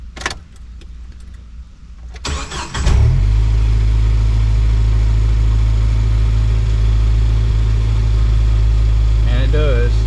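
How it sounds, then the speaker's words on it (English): A 1997 Jeep Wrangler TJ starts after key clicks and a brief crank, then settles into a loud, steady low idle that continues close by. "Now let me start it and hope that it don't have high idle."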